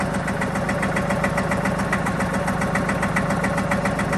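A 1958 Porsche Diesel Junior 108 K tractor engine idles steadily nearby, a loud, even diesel chug with a rapid, regular knocking pulse and no voices.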